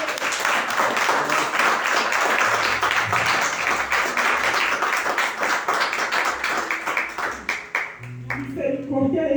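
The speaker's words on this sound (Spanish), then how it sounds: "en un fuerte aplauso a nuestro Dios" A church congregation claps loudly in praise during a worship service, a sustained wash of applause with distinct rhythmic claps that thins out near the end as a voice and tones return.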